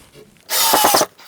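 A power drill whirs into a wooden model railroad baseboard in one short, loud burst of about half a second, starting and stopping abruptly, with a faint ratcheting chatter inside the whine.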